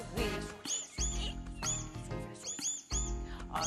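A cartoon mouse squeaks in a children's animated show, giving a series of short, high chirping squeaks set against a musical backing.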